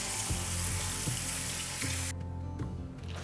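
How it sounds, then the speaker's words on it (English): Cold tap water runs steadily through a strainer of slimy pumpkin seeds as they are rinsed in a kitchen sink. The rushing hiss is continuous and close, shifting in tone partway through, with no talking. "we're gonna rinse all that slimy pumpkin out of there"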